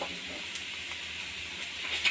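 Ginger garlic paste fries in a pan for an egg puff filling, giving a steady, close hiss of sizzling oil with faint stirring.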